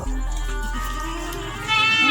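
Goats on an Indonesian farm bleat at afternoon feeding time over fermented feed, a close, wavering cry overlapping with someone talking, with a sharper bleat near the end.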